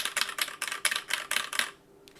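A heavy all-metal mechanical keyboard, about three pounds, clacks through a quick run of about eight loud, close keystrokes in an uneven rhythm, then stops into near silence.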